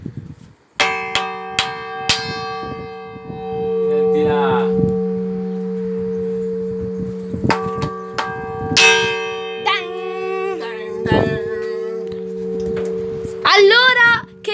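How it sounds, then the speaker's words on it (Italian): A large church bell cast in 1967 rings in its tower, struck in loud clangs with long humming decay, first a cluster of quick strikes and then spaced single tolls, while a person speaks briefly nearby. "E quindi questo è il campanone."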